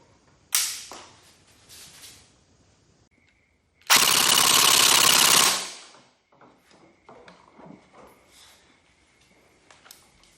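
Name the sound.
AKS-74U toy gun firing full auto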